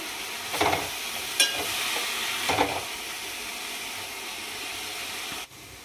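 Mint stalks fry in a pan for chutney, giving a steady close sizzle with a few brief stirring scrapes early on, then a sudden drop near the end.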